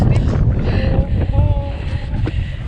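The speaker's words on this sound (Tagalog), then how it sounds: "Eh, mahangin naman." Wind gusts steadily across a frozen lake in winter, buffeting the microphone with a constant low rumble, while faint voices murmur briefly beneath it.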